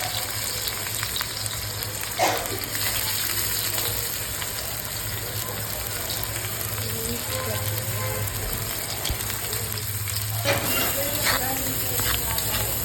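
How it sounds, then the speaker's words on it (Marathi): Finely chopped onion fries in hot oil in a pan, making a continuous close sizzle with a few brief scrapes, while a voice murmurs faintly in the background. "तेल गरम झालं की त्यात एक बारीक चिरलेला कांदा घालूया"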